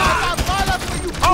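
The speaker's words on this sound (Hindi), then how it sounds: "सबको उड़ा दूंगा इस गन से" A gun fires in the video game GTA 5, a loud rattling burst of shots with a voice talking over it.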